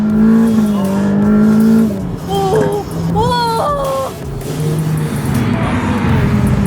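A Ferrari sports car engine roars and revs under acceleration, with shifting pitch and a brief tire squeal, loud and close.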